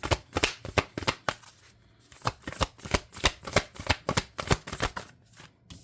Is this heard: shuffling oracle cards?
yes